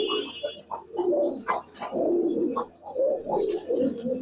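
Giribaz pigeons coo in a low, throaty run of repeated calls close by, with soft wing and cage shuffles between them and no talk.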